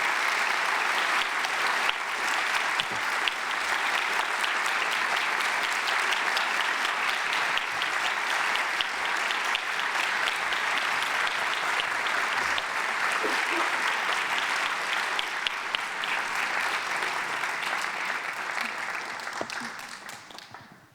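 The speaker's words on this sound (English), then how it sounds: "Hold your applause for 1 second" Audience at a university lecture on self-respect and protest bursts into sustained, dense applause that holds steady for about twenty seconds before tapering off at the end.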